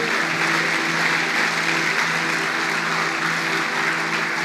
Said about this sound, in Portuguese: Quem crê, aplauda o Senhor bem forte.